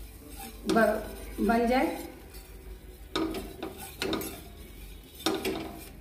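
Flour is stirred into melted butter in a pan for a white sauce, with clinking and scraping strokes of a spoon against metal in uneven bursts. A voice speaks briefly near the end.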